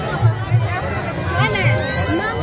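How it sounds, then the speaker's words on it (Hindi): Crowd hubbub at the Geeta Jayanti fair by Brahma Sarovar in Kurukshetra, a steady murmur of many voices with children calling out nearby, continuous babble with no single voice standing out. "आज कितने भीड़ है"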